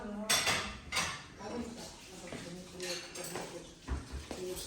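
New dishes are handled in a home kitchen, with scattered clinks and clatters of ceramic pieces set down and moved about while someone talks over them.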